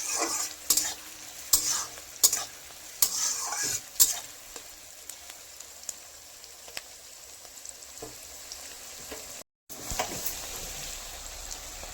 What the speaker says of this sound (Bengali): পেঁয়াজটা ব্রাউন কালার আসতে থাকুক।